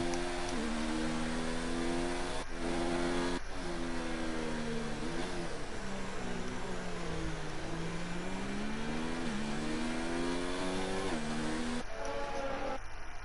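Race car engines in a Bahrain Grand Prix video game rise and fall in pitch as several cars rev and accelerate on the formation lap, a steady loud whine with gear-shift dips.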